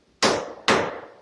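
Two sharp taps of a part being knocked down into a machinist vise, each a crisp metallic hit with a short ring, close and loud, about half a second apart.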